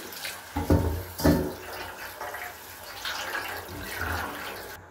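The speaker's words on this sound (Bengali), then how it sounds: "আর এখানে আমি সেমাইটা আগে ভিজিয়ে রেখেছিলাম, এখন ভালো করে ধুয়ে নিচ্ছি।" Soaked vermicelli being rinsed under running water, splashing and pouring at close range with a couple of sharper knocks near the start and a steady trickle afterward.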